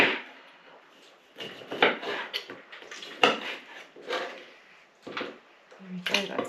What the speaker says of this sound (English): This is probably the most fiddliest bit, slicing the lemons.